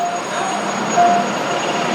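A train rolls through the Asok-Din Daeng road level crossing, a steady rumbling wash of rail noise with faint thin tones over it, heard close and fairly loud for a couple of seconds.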